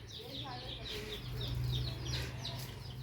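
Berasa breed chicks cheep in a steady run of high peeps, close by, over a constant low hum and background murmur.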